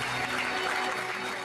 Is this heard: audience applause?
yes